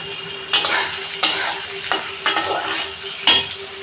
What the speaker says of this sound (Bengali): গরম মশলার গুঁড়ো দিয়ে নেড়ে নেবো